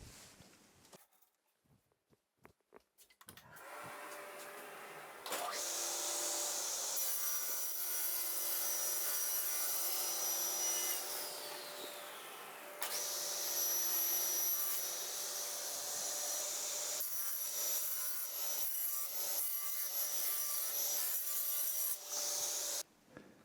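A table saw with a rip fence trims an oversized OSB board in a workshop, the motor spinning up, then a steady loud whine and rasp as the blade cuts through, briefly easing midway before running on.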